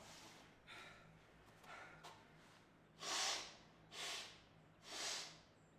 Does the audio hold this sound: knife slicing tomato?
no